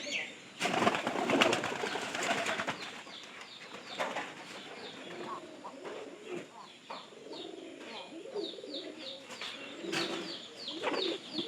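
Pet pigeons cooing nearby in a loft, repeated soft rolling coos and some chirps over several seconds, mixed with rustling, bursts of handling noise and faint background voices.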